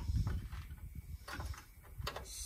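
A socket on a swivel extension turning a hood catch screw on a Jeep, giving faint, close mechanical ratcheting clicks and a few scraping turns with no voices.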